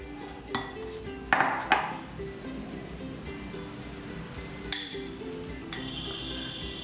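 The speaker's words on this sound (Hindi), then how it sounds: "और इस तरह से हम इसको दोनों पाउडर को मिक्स कर लेंगे।" Thandai powders are mixed in a bowl with a metal spoon, producing a few sharp clinks and scraping taps of utensil against the bowl, close and clear, over a faint steady background hum with no talk.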